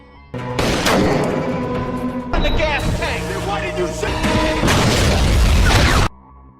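A weapons warehouse blows up in an action film, heavy booming blasts and crashing debris rolling continuously for several seconds, loud and dense, with a brief cut to a quieter stretch before the roar resumes and then stops abruptly.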